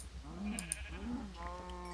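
Sheep bleating in Minecraft FTB Infinity Evolved: two short, close bleats in quick succession, with light clicks and a faint tonal hum behind them.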